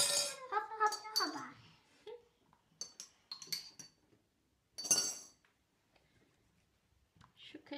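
A spoon clinks lightly as it is picked up among slime-making things on a table, a few faint scattered metallic ticks mixed with conversation from a woman and a child.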